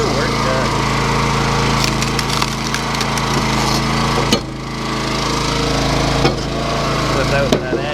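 Firewood being split in a woodyard with a sharp crack near the middle and more splitting knocks later, over a loud constant engine drone from machinery, close and strong.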